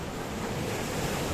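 Sea surf washing over wet rocks along the Kato Paphos seafront in Cyprus, a steady, loud broadband roar with wind buffeting the microphone, close by and continuous with no voices.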